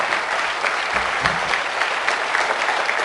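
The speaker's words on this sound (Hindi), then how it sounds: "इनके लिए एक जोरदार क्लैप" A seminar crowd claps loudly and steadily, a thick wash of many hands sustained for several seconds, with a brief low murmur partway through.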